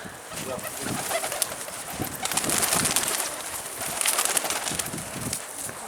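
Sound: pigeons

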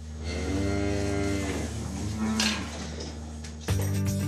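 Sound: Vosgienne cows mooing on a farm

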